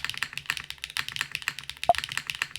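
Rapid, continuous typing on an 1800-layout mechanical keyboard with a thin silicone pad, soft, muted clacks in an uneven rhythm, close and moderately quiet.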